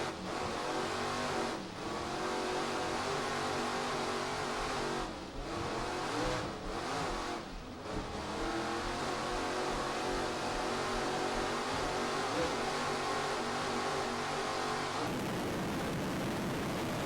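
Racing engines of a 37-foot Talon powerboat in an offshore race at Ocean City, 2006, roar steadily and loudly without a break, briefly dipping and surging before shifting tone near the end.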